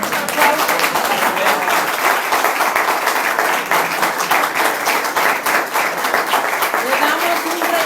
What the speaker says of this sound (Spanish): Entonces, le damos un aplauso.